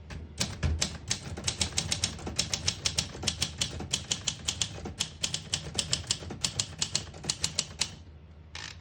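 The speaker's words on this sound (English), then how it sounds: "Beautiful, beautiful typing machine." Keys clatter on a 1960 Olympia SM4 portable manual typewriter in a fast, steady run of sharp strikes with a few brief pauses, close and crisp, no voices.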